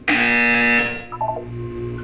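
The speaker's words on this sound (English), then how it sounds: "You will hear a buzzer." A buzzer in the video game Portal 2 gives one loud, harsh electronic tone lasting under a second, then fades into a low hum with faint chirping blips.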